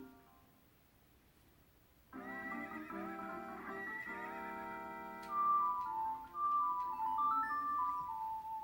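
A horse in Ocarina of Time whinnies loudly in a long, bright, wavering neigh, followed by a second rising and falling call, clear and close over a quiet backdrop.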